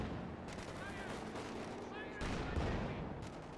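Anti-tank 6-pounder guns firing on a Panzer IV in a WWII strategy game, a dense loud wash of gunfire and artillery booms with a heavier blast near the end, mixed with faint voices.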